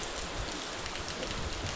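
Steady rain pours down in a farming village, a continuous even hiss of falling water close by with no voices.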